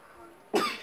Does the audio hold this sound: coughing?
yes